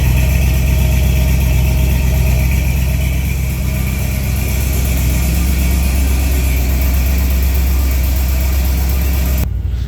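A small carbureted engine idles steadily and loudly up close, a continuous rough exhaust drone with no voices, cutting off abruptly at the end.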